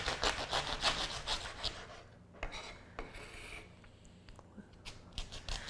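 Sharp artichoke leaves are trimmed with a knife: rapid rasping cuts in bursts, a brief pause, then a few more scraping snips close by, with no voices.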